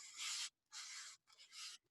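Hand sanding of a hardwood knitting needle: three close, even rasping strokes of abrasive along the wood, each about half a second with brief pauses between, quiet and with no voices.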